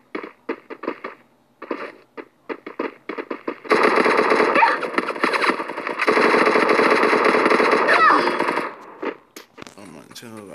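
Sustained automatic gunfire from the Free Fire shooter game, a dense loud burst of rapid shots lasting about five seconds, preceded by scattered single shots and talk, ending with a few isolated shots.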